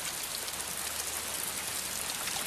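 Steady rain pouring down outdoors, a dense even hiss of drops with no voices, continuous and fairly loud throughout.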